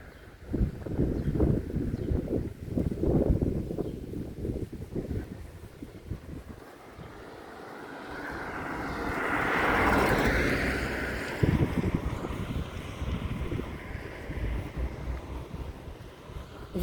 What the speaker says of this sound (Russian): Ветер поднялся